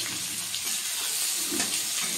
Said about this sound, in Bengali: এবার পেঁয়াজ কুচিটা দিয়ে দিলাম।